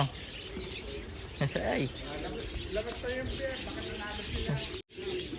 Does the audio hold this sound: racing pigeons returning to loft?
yes